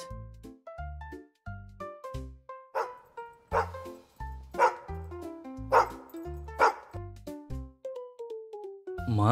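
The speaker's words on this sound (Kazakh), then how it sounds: "Ит" A cartoon dog barks in a bouncy, musical pattern, a dozen or more short bright yaps set to a playful melodic backing in a children's animal song, close and clear with no talking.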